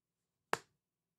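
A single sharp hand clap, crisp and close, ringing out alone in a quiet room with a short quick decay.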